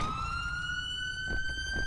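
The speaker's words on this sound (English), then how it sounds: "Whose siren is that?" A police car siren wails steadily throughout, a rising sustained tone with strong harmonics, fairly close, over low traffic rumble and brief background commotion.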